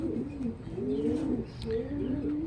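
A racing pigeon coos close by in a loft, with low, rolling throaty calls repeating in a steady rhythm under a soft background hum. Someone talks intermittently.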